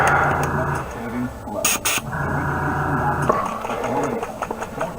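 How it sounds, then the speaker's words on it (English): Airbrush compressor running at a hobby bench for priming miniatures: a steady mechanical hum with rhythmic chugging throughout, with a brief sharper burst partway through and louder pulses near the end. "I'm going to go ahead and fire up the compressor and plug this in"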